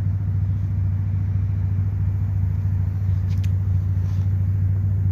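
A lawn mower engine held at full throttle, a steady low droning hum with constant rumble, close and unbroken throughout with no talking.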